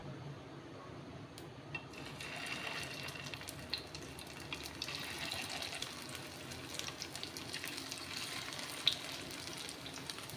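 Poha (aval) cutlets deep frying in hot oil over a medium flame, giving a steady, dense sizzle and hiss that holds throughout with small crackling pops, no voices present.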